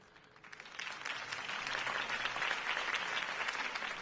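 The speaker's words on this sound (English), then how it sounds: "If only Mr. Wayne, my campaign's largest backer, could have heard that applause" Crowd applause after a campaign speech by a city political candidate. It is dense and sustained, swelling over the first half second and then holding steady and loud to the end, with no voices over it.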